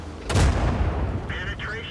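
Artillery fire in World of Tanks booms once, loud and close, then decays into a rumbling tail while a voice speaks near the end.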